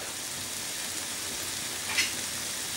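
Escalopes frying in a pan, a steady broadband sizzle throughout with a brief louder crackle and clatter as they are turned near the middle.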